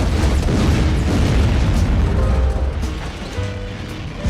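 A missile launches with a loud, sustained roaring explosion in the military comedy film The Pentagon Wars, a heavy rumble that gradually eases off.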